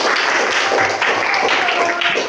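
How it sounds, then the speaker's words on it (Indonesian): A classroom group re-enacting the first BPUPKI session claps after a student's presentation, a brief burst of close, busy clapping with faint voices mixed in. "Tepuk tangan."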